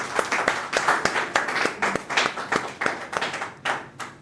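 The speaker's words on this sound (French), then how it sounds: "On peut encore acclamer, s'il nous plaît." An audience at a gospel music show claps together in a steady, close, rhythmic applause with sharp individual claps, continuing without a break.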